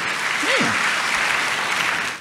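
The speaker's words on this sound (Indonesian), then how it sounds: "Boleh berikan tepuk tangan yang paling meriah buat Tuhan." Enthusiastic applause rises from a church congregation at a youth revival service, a dense wash of clapping that holds steady, with a brief voice or sliding tone cutting through near the start.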